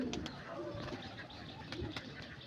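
Malwai pigeons, a male and a female pair, coo softly with low repeated calls over a steady background murmur, with occasional faint bird sounds and wing movement.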